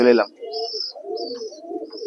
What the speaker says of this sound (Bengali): চলে এসেছি সকাল সকাল পায়রার লফটে চলে এসেছি